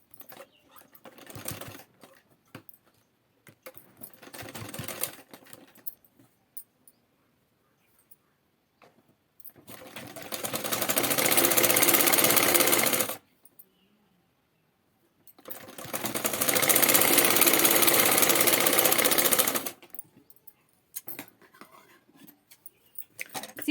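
An electric sewing machine runs a straight stitch along a folded belt strip for a blouse in two loud, steady whirring bursts of several seconds each, separated by quiet pauses with light fabric handling and clicks.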